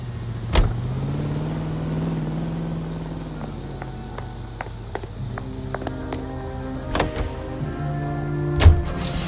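A car driving in the video game LA Noire, its engine a steady low drone throughout with a few sharp clicks and thumps over it, no talk.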